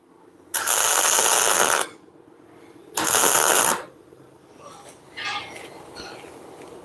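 A security lug nut is fitted and tightened onto an axle bolt of a type 950 rear axle, with two loud, rapid ratcheting bursts, the first longer, followed by faint clicks and handling noises.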